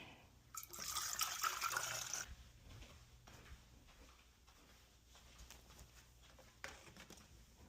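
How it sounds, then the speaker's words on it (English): Water pours briefly into a potted monstera plant with a soft splashing gush, then trickles and drips quietly, faint bird chirps in the background. "I'm gonna water my monstera next."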